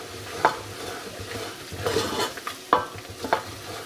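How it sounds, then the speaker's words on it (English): Flour being stirred into hot oil for a roux for a Southern gravy, with a soft sizzle under a handful of distinct scraping strokes of the spoon against the pan. "we're just gonna make a roux. We're just gonna cook that flour."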